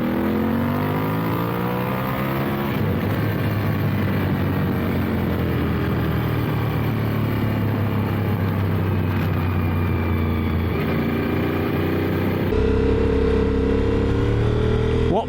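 A Honda VTR1000 SP1 V-twin motorcycle accelerates hard in first gear from 3,000 rpm, with a loud continuous engine roar that climbs steadily in pitch, heard close up from on the bike.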